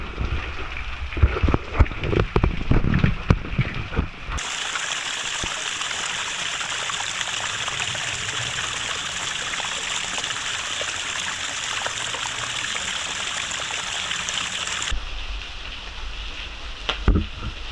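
A forest waterfall and stream in the Phu Phan mountains of Dong Luang, Mukdahan, Thailand, rushes with a steady, dense roar of flowing water. Some rustling and movement come first, then the water noise holds strongly before cutting back near the end.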